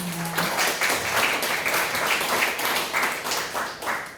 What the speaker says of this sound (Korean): 다시 한번 우리 회장님께 박수 한번 부탁드립니다.